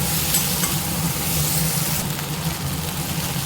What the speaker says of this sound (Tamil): வெண்டைக்கா நல்லா வதங்கட்டும்